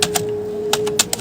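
Keys clicking on a computer keyboard while entering text into an MS Word document, a few quick separate clacks with pauses between them, close and fairly crisp, with no talking.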